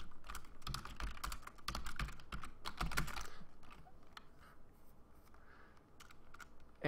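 Rapid clattering keystrokes on a computer keyboard, close and busy for the first few seconds, then thinning out to sparse taps over a quiet background.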